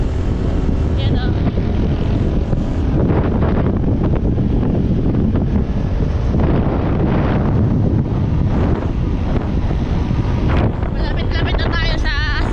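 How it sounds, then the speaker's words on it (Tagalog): Strong wind roars and buffets the microphone continuously on a road near Balayan, Batangas, loud and rumbling, with a voice speaking faintly under the gusts. "Ganyan naman ang lakas ng hangin sa laki ng dilim."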